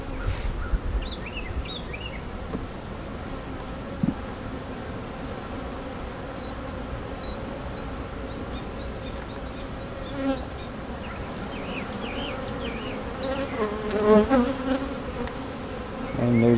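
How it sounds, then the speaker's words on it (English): Many honeybees buzz steadily and close by at a hive, a dense droning hum with a few faint chirps and scattered knocks, no talking. "Seeing more bees with pollen on them than usual."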